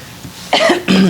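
Two close, harsh coughs in quick succession, loud and sudden against a quiet background.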